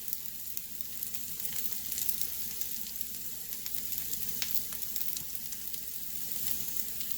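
Brinjal frying in a pan gives a steady, close sizzle that holds for the whole stretch with small crackles scattered through it, and nobody speaks.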